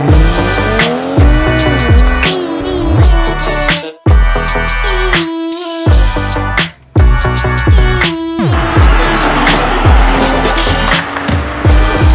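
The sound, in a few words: BMW M340i xDrive 2020 car driving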